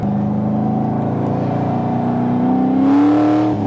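A 700+ horsepower Corvette accelerates hard on a race track, its engine a loud, close, steady roar that rises in pitch as it pulls through the gear, with no talking.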